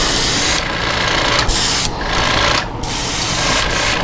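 Black spray paint hisses from a can onto a fishing bait in loud, close, sustained bursts separated by brief pauses.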